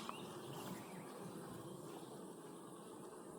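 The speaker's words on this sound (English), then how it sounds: "bees up here working" A soft, steady hum of many honeybees buzzing at a hive, faint and continuous, with no voices.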